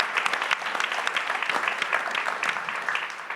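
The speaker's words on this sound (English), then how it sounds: "Let's give Jeff a big round of applause" An audience at a business awards event applauds an honoree, with brisk, dense clapping from many people that holds steady for a few seconds.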